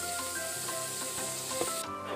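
Fish frying in hot oil, a steady dense sizzle running throughout without a break, close and fairly loud, with faint scraping stirs now and then and no one talking.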